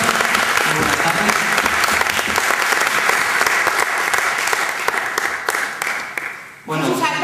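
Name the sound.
theatre audience applause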